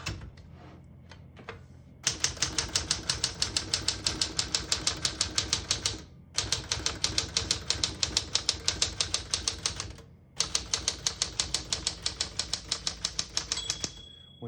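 Typing on a 1968 Smith-Corona Super Sterling portable typewriter: rapid, loud, evenly paced mechanical key strikes in three long runs separated by short pauses, with a bell ding near the end and no talk.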